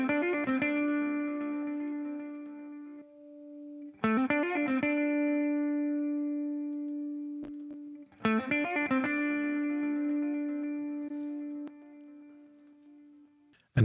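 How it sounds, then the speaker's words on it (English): Notes in a mix fed through echo and reverb channels ring out in three sharp attacks, each followed by a long sustained tail and repeating echoes that slowly fade. "Adding some echo."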